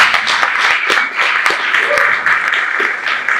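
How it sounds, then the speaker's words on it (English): An audience at a community arts event in Mpumalanga gives a round of applause, dense continuous clapping close and loud, with voices mixed in under it. "Give yourself a round of applause"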